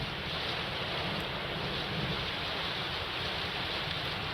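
Rain falls steadily during flooding in Ekta Nagar, Pune, a loud, continuous broadband hiss with a low rumble beneath it, unbroken and with no voices.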